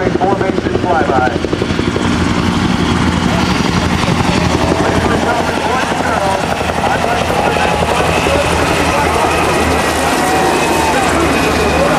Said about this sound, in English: The helicopter force for today's demonstration will perform a formation flyby.